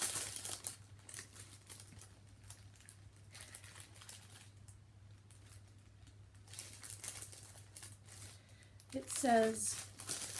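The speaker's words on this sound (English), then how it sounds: "I apologize for the crinkling." Plastic packaging around small mini skeins of yarn crinkles and rustles in scattered bursts, fairly faint and close, with a person briefly speaking.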